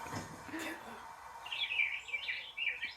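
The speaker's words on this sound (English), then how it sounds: "There's the birds." Birds chirp in a series of quick, bright calls in the second half, fairly faint, following a brief muffled voice and some handling noise.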